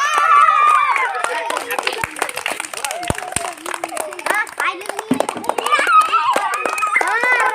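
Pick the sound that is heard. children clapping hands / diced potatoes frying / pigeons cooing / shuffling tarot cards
children clapping hands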